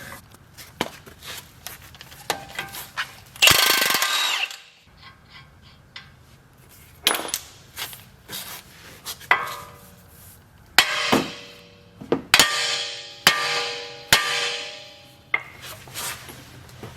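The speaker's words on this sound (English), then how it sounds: "But I pretty much whack with your sledgehammer handle right there, and then it should free this up and pop down." A sledgehammer handle strikes a trailer axle part to knock it loose, producing a few sharp metallic bangs and clanks spread irregularly across the clip, separated by quieter rubbing and handling noises.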